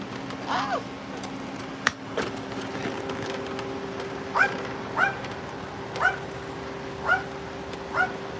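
A dog yips and whimpers in a series of five or six short, high, evenly spaced cries over a steady electrical hum, with a couple of sharp knocks earlier on.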